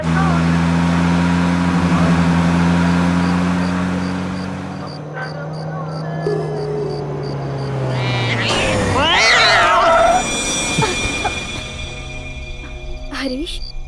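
In a Hindi-dubbed film scene, a cat meows with a rising, wavering call after a car brakes suddenly, heard over low engine hum, with voices nearby.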